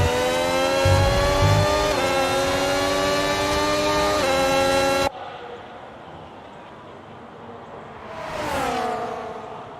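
A race car engine revving in a racing video game, a loud buzzing whine that holds steady, drops away abruptly, then swells again in a rising and falling sweep.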